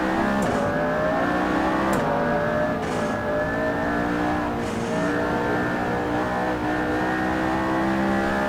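McLaren P1 engine revving hard in the Assetto Corsa racing game at the Zwartkops circuit, a steady loud harmonic engine drone rising and falling through gear shifts, with brief shift blips, no voices.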